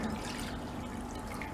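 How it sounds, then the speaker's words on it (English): Lukewarm water pours steadily from a cup for pizza dough, a soft continuous trickle heard close and alone for a moment. "First we'll take this lukewarm water."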